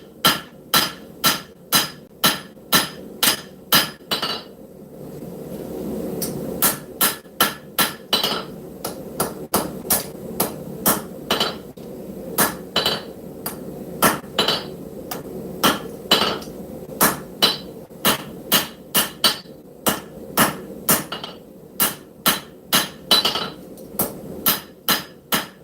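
Hand hammer blows forge a knife blade from scrap steel, sharp ringing strikes landing in quick rhythmic bursts with brief pauses between runs, close and loud.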